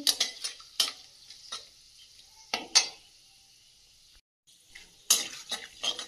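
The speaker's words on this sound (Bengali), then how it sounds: "তো মশলাটা ভাজা ভাজা হয়ে গেছে" Whole spices including cinnamon, black peppercorns and bay leaf fry in hot oil for a tempering before meat is cooked, giving a close, crackly sizzle with several sharp stirring scrapes and brief quiet gaps, no talk.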